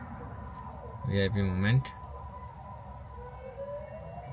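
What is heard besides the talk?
siren of vehicles passing in traffic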